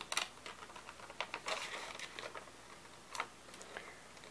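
Scissors snip through a paper border for a Dollar Tree candle craft, a quiet run of irregular small clicks and crisp cuts heard up close and faint.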